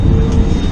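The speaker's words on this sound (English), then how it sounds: "That's a drone." Loud, steady engine drone of an aircraft overhead, continuous and close for a brief moment, with no voices.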